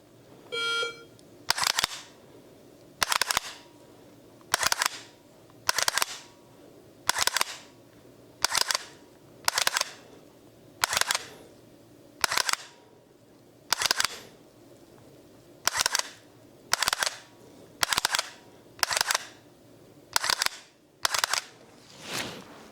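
Dry-fire trigger clicks from a Mantis Blackbeard X trainer during a BBX Dynamics drill, each followed by a short electronic beep: about sixteen sharp, evenly spaced bursts roughly a second apart, close and clear over a quiet background.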